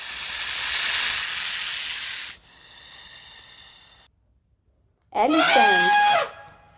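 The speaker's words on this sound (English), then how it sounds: "snake" A snake gives a loud, sustained breathy hiss up close, followed by a quieter second hiss, then silence and a single spoken word.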